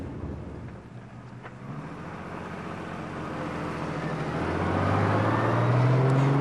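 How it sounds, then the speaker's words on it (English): A 1930 Austin car pulls away in second gear, its engine note rising steadily with wind and road rumble building into a louder, continuous drone as it gathers speed. "We pull away in second speed"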